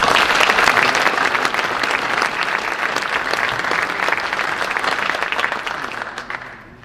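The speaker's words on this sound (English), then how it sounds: "Let's give one more round of applause." A packed audience claps steadily through a National Honor Society and senior awards ceremony, dense sustained applause close by that tapers and fades at the end.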